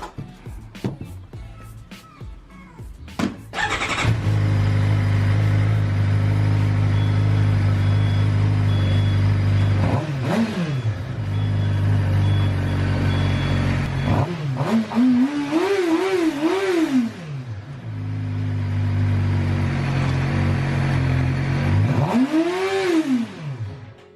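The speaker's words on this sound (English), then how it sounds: "So that was a stock exhaust. It's pretty loud for being, you know, stock." A 2017 Suzuki GSX-R 600 motorcycle with its stock exhaust starts up after a click, then idles loudly and close by, with three sharp revs that climb and drop back to a steady idle.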